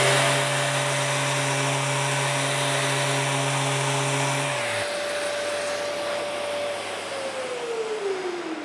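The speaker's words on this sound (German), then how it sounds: "Und schleife auch mal die Kante." A power sander whirs loudly and steadily on a wooden board's edge, then its motor pitch drops and the hum winds down into a fainter drone.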